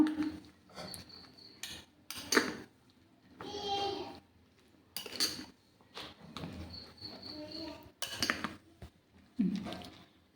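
A spoon mixing a mashed fruit batter for a sweet kaypola in a pan, with repeated clinks and scrapes of metal against the pan in short bursts, close by and moderately loud.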